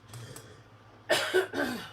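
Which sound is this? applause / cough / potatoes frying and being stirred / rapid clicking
cough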